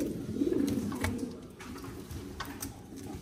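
Pigeons coo in a Bukhara pigeon loft in Kırcali, Bulgaria, soft throaty rolling calls close by, with faint ticking and shuffling around them.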